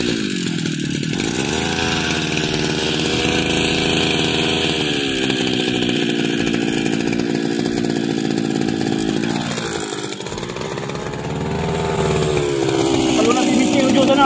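A petrol brush cutter for cutting grass runs steadily and loudly in a garden plot, its high whining engine dipping briefly mid-way before revving back up, with some voices faintly underneath.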